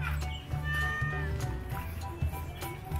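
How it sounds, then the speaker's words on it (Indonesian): A cat meows near a river where children are playing, with a drawn-out call heard under children's chatter, fairly faint against a steady low background hum. "Hai kucing."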